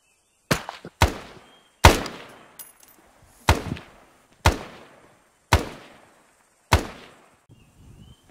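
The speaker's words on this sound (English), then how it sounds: "we can shoot at the targets, take 3 or 4, 10 shots at the targets" Seven separate single rifle shots at targets during SOG firearms training, each a sharp crack with a quick decaying echo, spaced unevenly about a second apart outdoors on a range.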